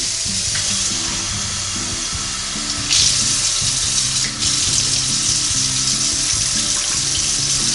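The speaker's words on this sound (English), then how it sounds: "So 2 cups of cold water, and it should be cold water going into the Instant Pot." Cold water pours steadily into an Instant Pot, a continuous close hissing splash that runs for several seconds without a break.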